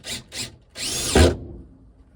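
Power drill pre-drilling a hole in wood while installing an upper cabinet in a Nissan NV2500 campervan: two short whirring bursts, then a longer, louder run that rises and strains, recorded close up.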